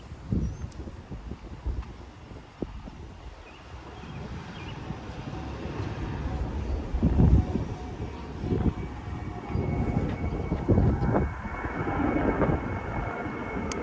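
Aircraft passing overhead in a quiet residential Howard Beach, Queens neighborhood, a broad, steady rumble that swells and fades across the stretch, with wind noise and faint street ambience and no talking.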